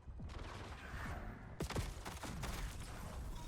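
Enemy gunfire in Black Ops 7 crackles through a busy game scene, with a sharp volley hitting partway through and rapid shots continuing after it.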